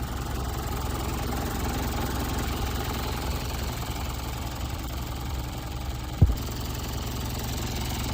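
A Japanese car engine, warmed up after running for some time, idles steadily with a close, even low hum and a faint knocking texture. A single brief thump sounds near the end.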